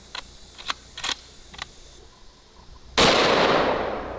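A .416 Rigby rifle fires a single close, loud gunshot with a sharp blast and trailing boom near the end, preceded by a few faint clicks and clatters.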